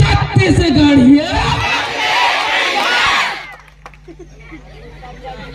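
A crowd of Adivasi listeners at a public address in Chhattisgarh erupts in loud cheering, whooping and shouting, the roar holding for about three seconds before dropping away to a low murmur.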